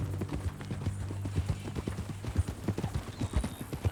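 Horse hooves clip-clop in a steady, close rhythm as a horse walks along in Red Dead Redemption 2, with a faint low hum beneath and no talk.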